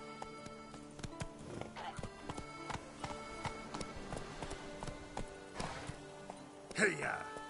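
Roach the horse galloping in The Witcher 3: Blood and Wine, rapid rhythmic hoofbeats running throughout, with a rider's voice calling out over the clatter.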